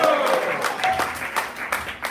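Crowd applause at a devotional gathering, a quick ripple of many hands clapping that fades gradually, with a brief voice and a tonal sound near the start.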